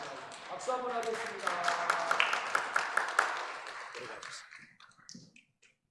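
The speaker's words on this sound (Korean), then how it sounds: "박수 한번 하겠습니다" A Korean church congregation claps during Sunday worship, a short run of crisp claps that tails off into scattered taps after someone speaks.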